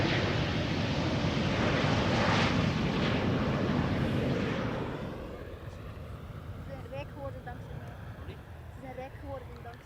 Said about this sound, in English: After that, 777-200 arriving from Toronto.